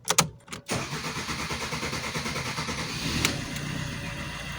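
An Alfa Romeo 1.3 or 1.6 MultiJet diesel engine cranks with a few sharp bursts, then catches and settles into a steady, even diesel idle, heard up close with no talk.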